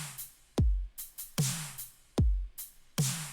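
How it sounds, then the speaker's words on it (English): A newly added drum track plays alone in a music production session: punchy deep kicks with booming low tails alternate with crisp snare and hi-hat hits in a steady, loud groove. "Another thing that we did was we brought in new drums"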